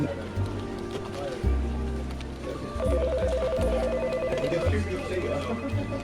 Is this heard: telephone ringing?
yes